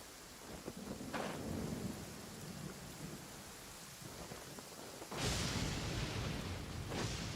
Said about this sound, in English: It's raining again? Oh, this isn't good. If the rain washes away the traces,